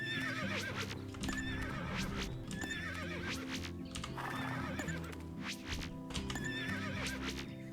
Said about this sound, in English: A kick from a horse, you say?